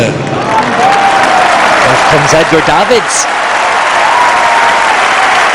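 Stadium crowd applause as Edgar Davids is substituted off in a Juventus vs Real Madrid legends match, a loud sustained roar of clapping under a commentator's voice.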